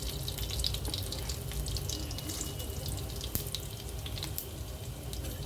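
Whole spices (bay leaf, cinnamon, cloves and fennel) sizzle in hot oil for a hotel-style vadacurry, giving a steady, soft, hissing crackle with faint pops throughout.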